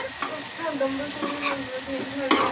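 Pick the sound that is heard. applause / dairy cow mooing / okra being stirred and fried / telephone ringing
okra being stirred and fried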